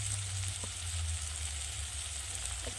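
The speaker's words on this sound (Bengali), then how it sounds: "মটরশুঁটি, পেঁয়াজ টমেটো বেশ ভাজা ভাজা হয়ে গেছে।" Peas, onion and tomato fry in a pan with a steady, soft sizzle, and a couple of faint stirring clicks break through.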